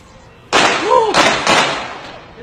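Sharp bursts of police gunfire captured on a phone in Pittsburgh: an abrupt loud onset near half a second, then two more distinct sharp cracks about half a second apart, with a wailing siren-like tone and raised voices mixed in.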